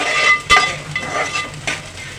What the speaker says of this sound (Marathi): मी घालत आहे तूप छानपैकी भाजत आहे